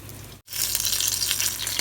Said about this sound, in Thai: อย่าทอดให้ไหม้เกิน ให้ได้ประมาณนี้พอแล้วค่ะ